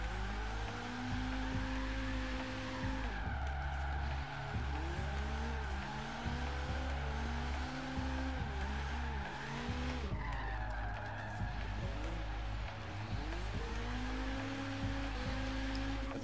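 BMW E-series M3 with roughly 400 horsepower on stock tires, driven in Forza Horizon 3, engine droning steadily with repeated tire squeal and skidding as it slides through corners, continuous and close.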